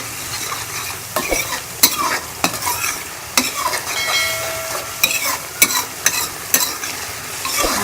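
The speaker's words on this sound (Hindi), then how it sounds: "मसाले को हम अच्छी तरह से भून लें।" Spice masala for a dhaba-style egg curry stirred and fried in a pan: steady sizzling under repeated scraping strokes of a spoon, with sharp knocks against the pan, close and loud.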